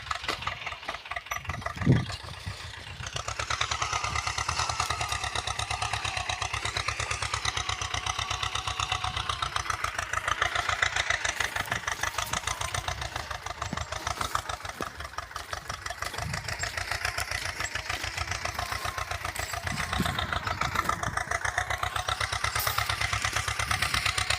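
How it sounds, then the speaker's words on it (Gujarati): A tractor engine chugs steadily nearby in a farm field of chickpeas and pigeon peas, a continuous loud diesel throb that keeps running throughout without pause. "અત્યારે તો ટ્રેક્ટર ચાલુ છે।"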